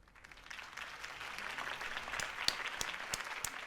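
Crowd applause follows a campaign speech in the Batman: The Telltale Series video game, a steady wash of clapping at moderate level with a few sharper claps standing out, heard faintly in the background.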